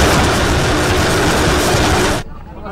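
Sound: meter gauge trial train running on railway

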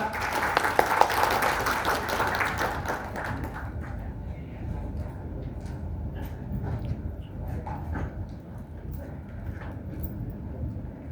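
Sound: audience applause at ceremony

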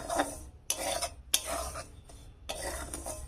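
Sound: stirring and dry-roasting semolina with rice flour in a pan

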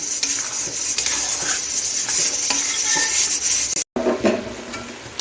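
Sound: cabbage and fried potato cooking in a pan

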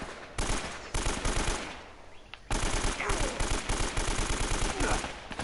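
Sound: AK rifle gunfire in video game

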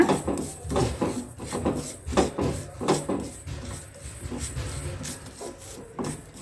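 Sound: roasting lentils (dal) in a pan until golden

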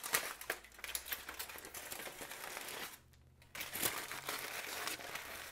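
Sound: removing aluminum foil from a roasted whole chicken

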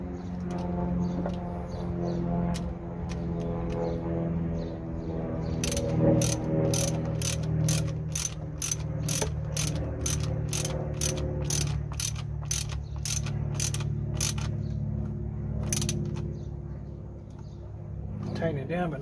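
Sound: ratchet tightening nuts on VW New Beetle fuse box

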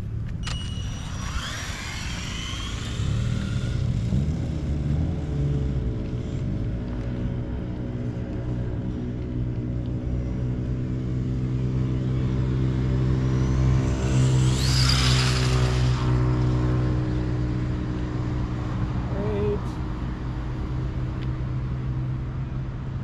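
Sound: RC car driving on a track during a speed run

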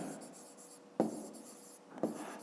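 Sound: writing the remainder

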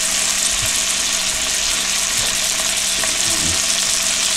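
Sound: food sizzling in a hot pan

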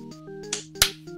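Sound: two people giving a high five

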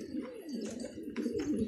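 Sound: pigeons cooing

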